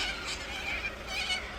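A large flock of corellas, white cockatoos, screech and call near the Tailem Bend ferry in South Australia, a dense continuous chorus of harsh cries with no talking.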